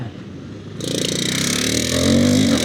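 A KTM motorcycle engine running with excessive noise, a close, loud, continuous rough drone that rises in pitch and intensity partway through as it revs, with no talk.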